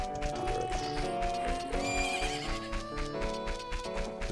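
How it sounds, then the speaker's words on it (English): Epona the horse from the Zelda game Ocarina of Time whinnies and clops her hooves over a steady backdrop of chiptune-style game music, the sounds continuous and fairly loud throughout. "She's a little horse."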